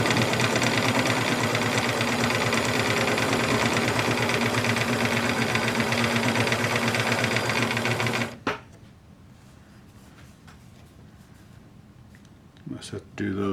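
A Bernina Record 830 sewing machine runs in a steady, fast mechanical stitching rattle for about eight seconds, then stops abruptly, leaving quiet room sound with a few faint clicks and handling noises.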